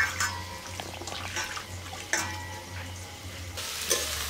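Onion, bay leaf and garam masala frying in a kadai, a steady soft sizzle with clinks of stirring throughout, fairly close and moderate in level.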